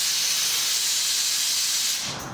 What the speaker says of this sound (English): I'm gonna blow this out with some compressed air first